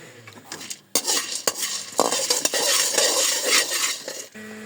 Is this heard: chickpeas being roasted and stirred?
yes